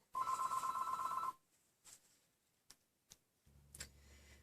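A telephone bell rings once in a home office next to a nursery, a sustained electronic trill lasting about a second, followed by faint clicks and a low hum.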